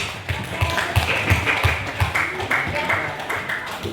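Students in a classroom applaud a classmate, a brisk run of rhythmic, fairly regular claps with voices talking over them throughout.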